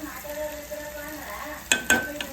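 Jaggery and chili powder being stirred in a frying pan, a steady soft sizzle with two sharp scrapes of a utensil against the pan near the end.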